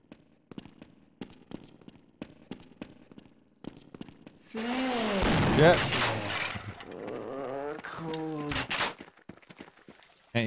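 Shotgun blasts in the game They Hunger: a run of sharp separate shots, then a louder stretch of gunfire mixed with creature cries, while someone talks over the action.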